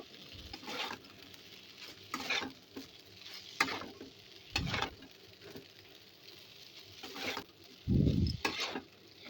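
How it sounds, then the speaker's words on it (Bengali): Egg noodles being stirred in a pan with Maggi masala and soy sauce, giving intermittent scraping and clattering bursts over a low background sizzle, fairly close with no talking. "ভালোভাবে মিশিয়ে নিয়েছি আর একটু হালকা নাড়াচাড়া করে ভাজা করে নেব"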